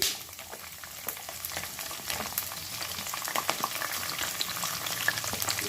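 Onion and green chilli fry in hot oil for vegetable semiya upma, a constant close crackling sizzle that builds slightly louder, with occasional light stirring clicks and no talking.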